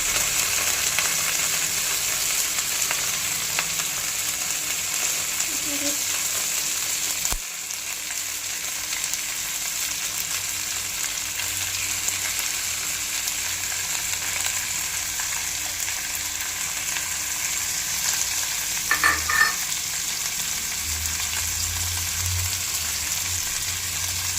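Boneless chicken pieces, about 300 grams, fry and sizzle in a pan for chicken pulao. A steady hiss runs throughout, with a few soft scrapes and clinks of stirring.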